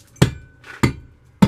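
Three sharp metallic strikes of an old hand tool chipping crumbling old mortar off a concrete slab, evenly spaced about half a second apart, with faint scraping between blows.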